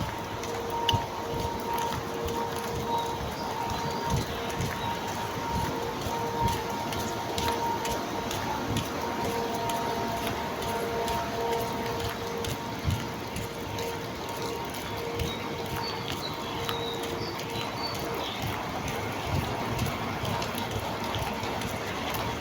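Heavy rain falls steadily outdoors, a dense constant patter heard while walking through it, with no talk.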